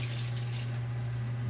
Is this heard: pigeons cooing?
no